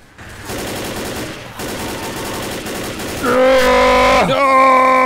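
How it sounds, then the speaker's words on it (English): Loud rapid gunfire in the video game Left 4 Dead, dense rattling bursts in two stretches, followed by a strained tonal groan or vocal sound layered over continued shooting. "Why are you shooting me?"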